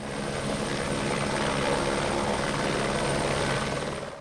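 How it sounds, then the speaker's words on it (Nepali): Nepal Army military helicopter on a rescue flight, its rotor and engine producing a loud, steady, close drone throughout without pause. "सैनिक हवाई साधनद्वारा उद्धार गर्दै आइरहेको छ"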